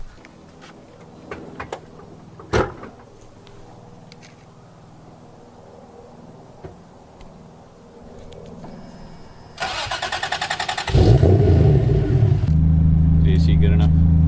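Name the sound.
turbocharged sports car driving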